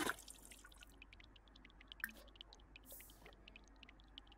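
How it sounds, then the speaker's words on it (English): Rapid, faint water drips falling into a bath in The Sims 4, a quick irregular patter of small plinks, with no voices. "It's dripping in fast motion."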